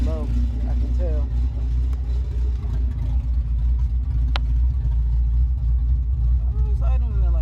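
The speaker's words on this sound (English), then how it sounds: "It's idling at like 900." Honda Civic EK coupe with an H2B engine swap idling at about 900 rpm with new injectors, a steady low rumble held throughout with faint talk over it.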